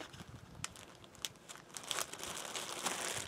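A plastic bag is crinkled and handled up close while turkey-hunting gear is laid out: quiet, continuous rustling with sharper crackles at a few points.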